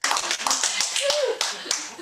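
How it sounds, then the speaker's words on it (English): A small audience claps at a community evening event, scattered individual hand claps that come unevenly, with voices in the background. "You guys can clap."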